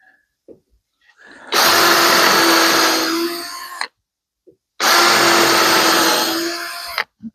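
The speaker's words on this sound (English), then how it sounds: "Pre-drilling will help keep it from splitting out." A power drill pre-drills wood for a stepstool build in two loud, close bursts of about two and a half seconds each, with a short pause between them.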